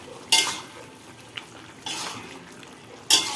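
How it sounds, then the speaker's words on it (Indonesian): Stirring tempeh and quail eggs in a pan: soft scraping and clinks of a utensil against the pan, three brief bursts spaced a second or so apart, faint and close, with no voices. "Sekarang tinggal kita masukin telur puyuhnya. Kita aduk lagi terus"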